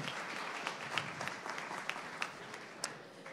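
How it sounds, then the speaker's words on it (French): Brief audience applause at a startup pitch event, a short burst of clapping with a few distinct sharp claps that thins out quickly. "On peut l'applaudir."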